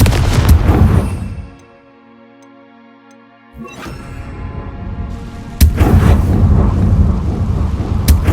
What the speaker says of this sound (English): These vines are as dry as kindling. Confringo!